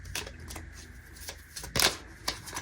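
Tarot cards being shuffled by hand at close range: a few quiet, quick riffling and slapping bursts against a soft, still background.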